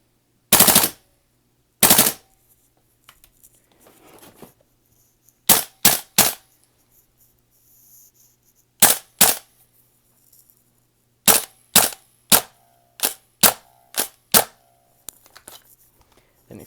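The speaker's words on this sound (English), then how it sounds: "Full auto real quick, just in some bursts." DDMK18 airsoft gun firing full-auto bursts, loud sharp clusters of rapid snapping shots separated by silent gaps, with a few single pops among the bursts.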